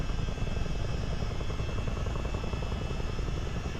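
A CH-47D Chinook twin-rotor helicopter flies in a multiplayer flight simulator, a steady, dense, close rotor thump and engine drone held at an even level throughout, with no talk.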